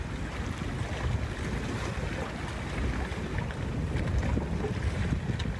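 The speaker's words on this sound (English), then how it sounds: "Wind's picking up." Wind blows around a small sailing boat on the Hunter River, making a steady, loud, gusting roar with buffeting on the microphone and a faint wash of water beneath, with no talking.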